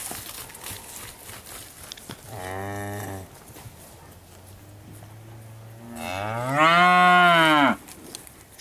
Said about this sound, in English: Cattle are docile.